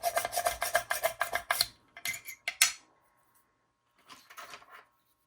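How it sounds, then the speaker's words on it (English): Push drill boring holes into polymer clay canes: rough rasping scrapes in a dense rapid burst, then a few scattered scratchy strokes and a quieter final run, close and with no talking. "So I'm going to start out with my push screwdriver. Yeah, my push drill first."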